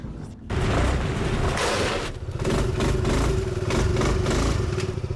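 A stopped motorcycle's engine revs loudly and close, a dense throbbing roar that dips briefly and then surges again.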